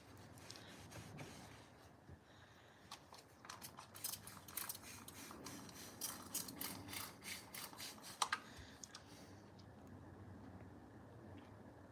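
Salon shears drawn across a 1500 grit sharpening stone, giving faint, quiet rasping strokes that repeat in an irregular rhythm and grow slightly busier toward the middle.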